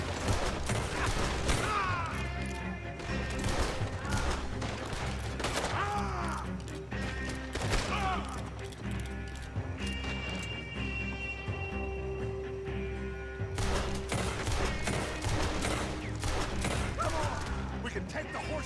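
Bursts of gunfire crackle through a chaotic Red Dead Redemption 2 battle, shots and impacts repeating across the scene with crashes, mechanical clatter and characters shouting throughout.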